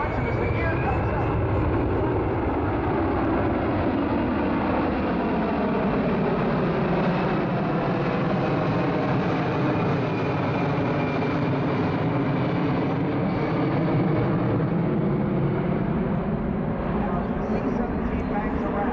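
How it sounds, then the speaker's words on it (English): A C-17 military transport aircraft flies overhead after takeoff with its gear retracting, a loud, sustained jet roar that swells and slowly sweeps in pitch as it passes and banks. "one of the most impressive heavy lifters the world has ever seen"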